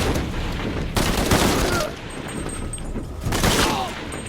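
Gunfire in the video game Shadow of the Tomb Raider, bursts of rapid shots in two loud clusters separated by a quieter gap, close and harsh with game ambience underneath.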